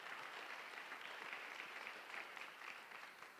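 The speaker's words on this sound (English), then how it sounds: "let's have a round of applause for our presenting sponsor" A forum audience claps for a presenting sponsor, a brief, even burst of many hands heard from a distance and fairly faint.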